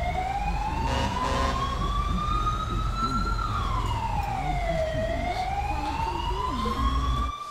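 An ambulance siren in GTA 5 wails loud and close, sweeping slowly up and down in pitch over a steady engine rumble for the full seven seconds.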